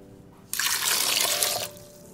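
Water pours into a pot holding toor dal, green chillies, tomatoes, mango and onion, a short, close splashing gush lasting about a second before stopping.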